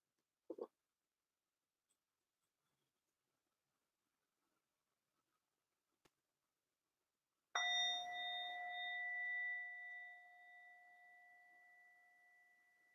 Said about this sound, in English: with the sound of the bell, the practice will begin.